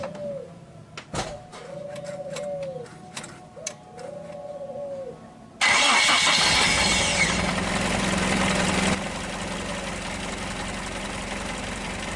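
Pigeons coo a few times amid faint clicks, then a Toyota Corolla DX engine with a rough, misfiring fault cranks and starts loudly, settling into a steady idle that drops slightly in volume.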